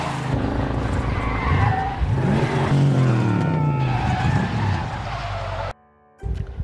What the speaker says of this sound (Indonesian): John Wick memacu kendaraannya di sebuah landasan penerbangan dengan kencang